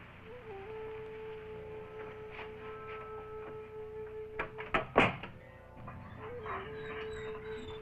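A dog yelps and whimpers in a short cluster of sharp sounds mid-scene, set against a steady electronic tone and low room noise, with no talking.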